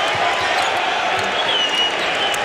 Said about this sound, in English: Crowd buzzing about that move by J.R. Smith